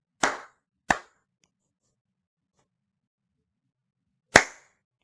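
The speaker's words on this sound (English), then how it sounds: "Now I'm going to clap my hands" Three sharp hand claps in a quiet room, aimed at a micro:bit sound sensor: two close together, then a pause of over three seconds before a third, each crisp and fairly near.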